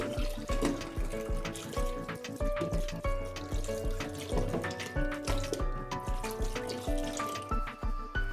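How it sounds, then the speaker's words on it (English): A peeled coconut is rinsed under running water, with splashing, dripping and irregular handling sounds close by and no talking. "Wash the coconut after peeling."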